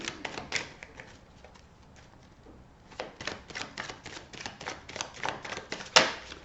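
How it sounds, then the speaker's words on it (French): Tarot cards being shuffled close up, a series of soft riffling bursts and flicks in uneven clusters, fairly quiet, with a sharper snap near the end. "vous ne me voyez pas brasser les cartes"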